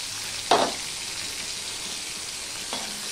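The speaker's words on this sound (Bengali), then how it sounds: "রসুনগুলো আমি লাল লাল করে ভেজে নেব" Crushed garlic cloves hit hot oil already tempered with dried red chillies while cooking a sesame and spinach dish, giving a steady soft sizzle with a sharper burst of spitting near the start and another smaller flare later.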